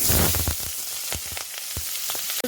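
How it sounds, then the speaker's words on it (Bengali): Hot oil sizzles loudly and steadily as washed potato pieces fry in a wok, with a few soft scraping knocks as they are moved around the pan. "কড়াইয়ের তেল গরম হয়ে গেছে, এবার দিয়ে দেবো গুঁড়ো করে রাখা ধুয়ে আলু"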